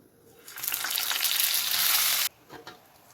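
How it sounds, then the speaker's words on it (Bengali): A loud burst of sizzling as pointed gourd hits hot oil, a steady frying hiss for about two seconds that then cuts off sharply, followed by light clatter. "ওই তেলের মধ্যে দিয়ে দেবো পটল"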